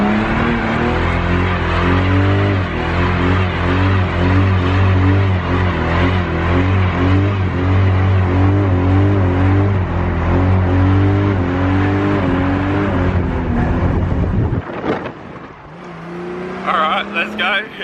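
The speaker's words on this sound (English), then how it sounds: "it'd be rude not to do a skid" A Holden VS Commodore ute does a skid, its engine revving hard and loud with a rising, pulsing roar for about fourteen seconds before cutting off abruptly, followed by brief faint sounds.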